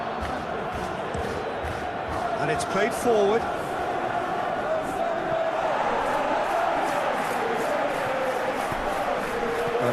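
A simulated football stadium crowd keeps up a broad murmuring roar during a Chelsea versus Arsenal Premier League match, with a brief swell of excitement partway through, while a commentator talks over it.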